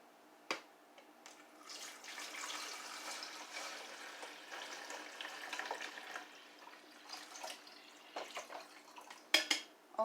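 Tap water running into a coffee maker's carafe or reservoir, a faint, soft trickle and splash with a few small clinks of glass or plastic, fairly quiet throughout.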